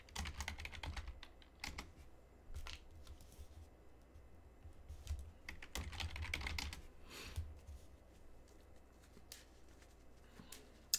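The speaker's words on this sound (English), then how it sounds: "which is more typing" Rapid bursts of typing on a computer keyboard during a Pioneer-format online card game, clattering in irregular clusters with brief pauses, close and fairly quiet, with no speech over it.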